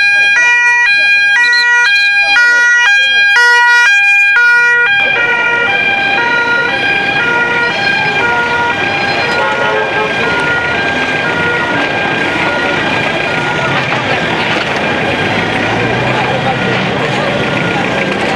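Loud wailing motorcycle escort sirens blare continuously as a motorcade crosses the Darou Khoudous market, first with stepped tones and then a sustained mix of overlapping sirens and traffic noise nearby.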